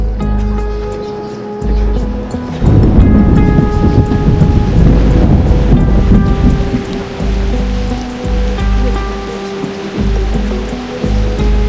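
A rainstorm with thunder in the video game Reverse: 1999, heavy steady rain hissing throughout while deep thunder rumbles swell in the middle, over a soft sustained musical bed.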